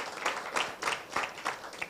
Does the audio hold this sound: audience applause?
yes